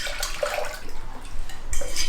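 Apple cider vinegar is poured for a pickling brine, making a steady liquid splashing and gurgling that grows fuller and louder toward the end.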